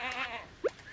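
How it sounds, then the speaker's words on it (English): A goat in the Stardew Valley farming game lets out one short, bright bleat partway through, over soft, steady tonal background sound. "Yeah, because you're a troublesome goat."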